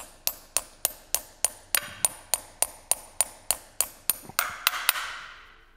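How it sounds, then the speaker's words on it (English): A hammer strikes a steel stud anchor with an impact-protected head into a drilled hole, about sixteen sharp metallic blows in a steady rhythm, the last few ringing longer, close and alone. "the stud anchor is driven straight into the hole with the hammer"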